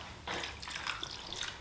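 Liquid dye for autumn roving is poured carefully, giving a soft splashing trickle that starts after a brief pause and keeps going for just over a second at low volume.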